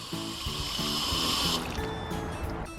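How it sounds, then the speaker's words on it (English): Water pours steadily into a toy car wash for a few seconds, a bright continuous splashing trickle that thins out toward the end, with no talk over it. "And now, Sally, you have to pour the water."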